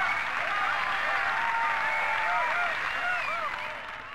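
A crowd in the video game Bioshock 2 applauds and cheers with a mix of clapping and raised voices, steady and fairly loud before fading slightly at the end.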